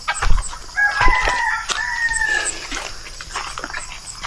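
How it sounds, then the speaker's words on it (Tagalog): Chickens stir on a rural farm as a rooster crows loudly nearby, with a dog barking sharply at the start and faint clucking throughout. "Gising na rin yung ating mga manok."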